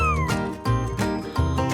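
A kitten meows in three close, drawn-out, high calls with rising and falling pitch, heard clearly and alone.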